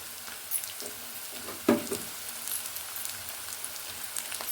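Green chillies frying in ghee in a pan while cooking fried rice, a soft continuous sizzle with a few brief crackles and pops.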